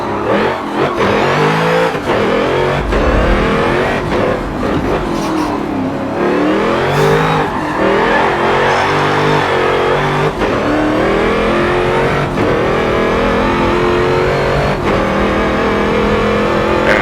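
Race car engine in a driving game sliding around a track, revving and shifting loudly and continuously at close range with tires scrubbing through corners, no speech.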